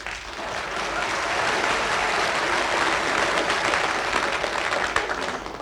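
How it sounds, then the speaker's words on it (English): A studio audience breaks into loud, sustained applause for a radio comedy's guests, dense clapping from many hands holding steady throughout. "welcome Captain and Mrs. Povey with a round of great applause"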